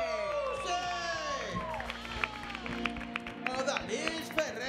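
A television show's studio audience claps and cheers after a bachata singer's emotional song. Loud, tonal voices shout and sing over the crowd noise, and scattered claps run through the whole stretch.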